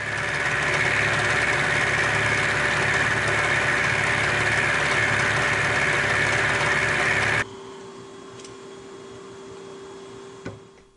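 Milling machine taking heavy roughing passes in metal with a roughing end mill, a loud steady whining drone with a constant tone that cuts off abruptly partway through, leaving a quieter motor hum and a brief clunk.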